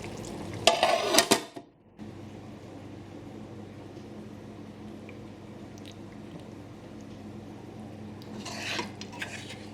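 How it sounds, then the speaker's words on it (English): A metal lid clatters onto a pot of Bangladeshi vegetable curry with a short burst of clanking near the start, followed by a steady low simmer and hum for the rest, with a faint clink near the end. "we're just going to cover this with the lid and let this cook for another 5 minutes on low heat"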